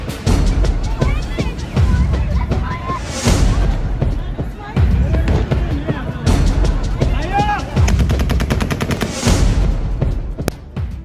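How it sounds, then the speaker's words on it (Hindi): Rapid bursts of gunfire crack repeatedly, loud and close, with echoing reports and a crowd's background noise between volleys, at an airport in Afghanistan. "फायरिंग की आवाजें सुनाई दे रही हैं"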